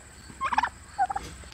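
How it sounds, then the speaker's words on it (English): Turkeys gobble in two short, loud bursts close by on a farm in fall, a rapid rattling call followed by a briefer second gobble, with quiet outdoor background between. "I love the turkeys."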